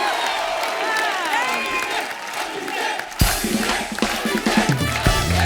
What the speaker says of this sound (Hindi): जोरदार तालियां अभिषेक भाई और चित्रांगदा के लिए